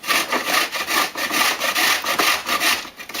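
A block of frozen Philadelphia cream cheese is scraped across a grater in quick, even back-and-forth strokes, a close, dry rasping rhythm repeating about a dozen times with no talking.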